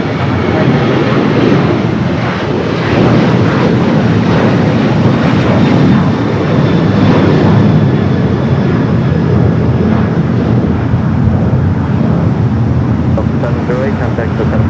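An airliner taking off from runway 24 left at LAX, a loud continuous jet engine roar that holds steady throughout, with radio voices talking faintly beneath it.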